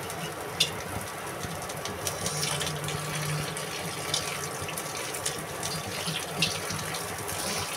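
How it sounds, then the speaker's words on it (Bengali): Red amaranth leaves are washed under a running kitchen tap, a steady close gush of water with occasional splashes and knocks as the leaves are handled. "আর এই ফাঁকে লাল শাকটা ধুয়ে নিচ্ছি।"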